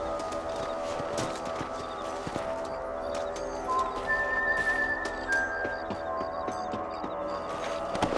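Horse hooves in the video game Red Dead Redemption clip-clop in a steady trotting rhythm on hard ground, with faint birdsong and an occasional whistle-like tone over a continuous outdoor ambience.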